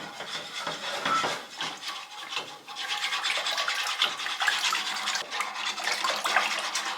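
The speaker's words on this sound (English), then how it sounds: "I'm just using a plastic whip because I have a nonstick pan." Plastic whisk stirring BBQ sauce in a nonstick pan on the stove, giving a steady, close swishing and scraping that keeps going for several seconds with no talking.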